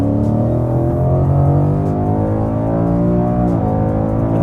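A 2018 Ford Mustang accelerates hard, its engine a loud, close, steady drone rising gradually in pitch, with a brief dip and recovery near the end.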